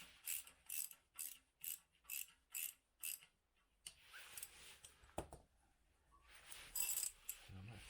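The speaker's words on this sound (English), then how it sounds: "Got a 13mm socket on this exhaust clamp here. We'll loosen this off." Ratchet wrench with a 13mm socket loosening an exhaust clamp on a Honda CBR750 K4 motorcycle during restoration, giving a row of quick, evenly spaced clicking bursts, then scattered metallic handling clicks and a second short ratcheting run.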